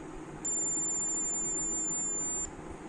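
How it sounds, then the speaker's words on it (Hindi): Buzzer of a thermal-check automatic gate circuit built for Covid-19 entry screening, sounding one steady, loud, high-pitched tone for about two seconds over a constant background hiss. "तो देख सकते हैं बजर जो है बजना चालू हो जा रहा है।"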